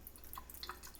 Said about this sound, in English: I don't know if the sound of that water running through the drain is relaxing or not.